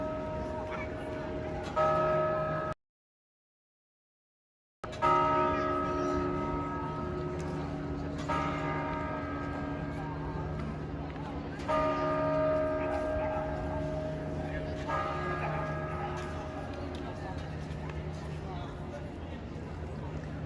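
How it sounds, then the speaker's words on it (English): A church bell tolls in Piazza San Marco, Venice, with slow, ringing strikes that repeat every few seconds over a steady crowd murmur, broken by a short silent gap. "For whom does the bell toll?"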